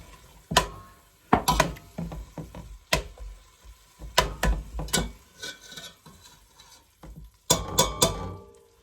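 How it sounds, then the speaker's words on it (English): Kitchen pan sounds of green masala for chicken korma being stirred and fried with a little water, with scraping strokes and clanks in irregular bursts over a low sizzle. "Add a little bit of water and continue frying for a few minutes"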